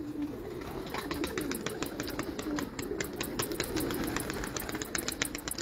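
Soft cooing of a racer pigeon on a rooftop, with repeated sharp wing flaps and light fluttering over a low background hum, fairly close and quiet.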